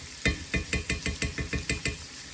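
Crushed garlic for an eggplant stromboli filling sizzles in a pan as it is stirred: about ten regular, close scraping strokes pulse over a soft, continuous fry.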